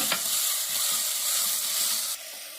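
Crushed small shallots sautéing in a pan for a red snapper curry, a close continuous sizzle with soft stirring scrapes that drops to a quieter hiss at the end.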